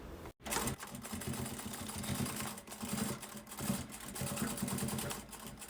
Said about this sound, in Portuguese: a gente vem e repassa essa costurinha com um acabamento nas duas pontas